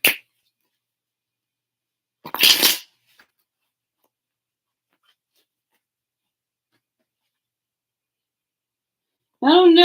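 Tarot cards shuffled in a quick burst of riffling near the mic, preceded by a brief noise and followed by long silence before a voice starts at the end.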